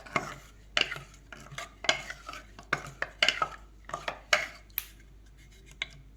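A spoon scrapes and clanks against a pot while cooked methi leaf pulao is mixed, giving a series of close, irregular metallic knocks and stirring scrapes with short pauses between them.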